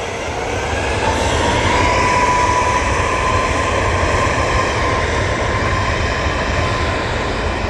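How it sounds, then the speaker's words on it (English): A Boeing 737 MAX 8 spools up for takeoff at Manchester Airport, a loud, steady jet roar with a thin engine whine running through it from start to finish. No voices are heard. "That 737 MAX 8 is now"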